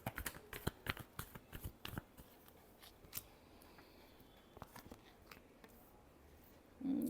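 Tarot cards are shuffled in a quick run of crisp, irregular riffles and taps, then a few sparser flicks and a light thud at the end, quiet and close.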